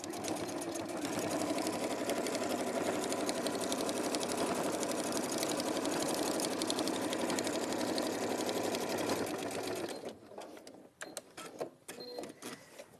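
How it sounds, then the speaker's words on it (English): A sewing machine stitches a seam, running as a steady, close mechanical whirr for about ten seconds before stopping, leaving a few scattered handling clicks and rustles. "just sew from here to there"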